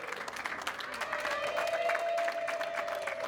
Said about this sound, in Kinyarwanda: Ari gukoma amashyi cyane